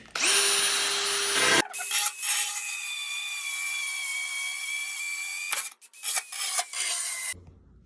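A power drill fitted with a hole saw crown bit runs up with a rising whine, then cuts into material with a loud rasping grind that stutters and pauses in bursts before the motor spins down.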